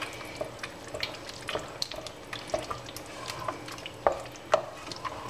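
Beef and pork meatball pasta sauce with basil and pepper being stirred in a pan, soft wet scraping and gentle sloshing with small clinks of the spoon, close and fairly quiet, no talking.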